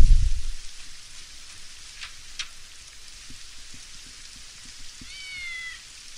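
Cats meowing amid rain in the video game Postal 2, a faint wavering meow near the end over a steady hiss of rainfall, with a brief low thump at the start.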